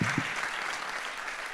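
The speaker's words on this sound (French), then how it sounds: "Je vous propose d'applaudir les invités de ce soir" An audience at an evening forum debate on unconditional basic income applauds the guests, a short burst of steady clapping from a moderate-sized crowd heard at a distance.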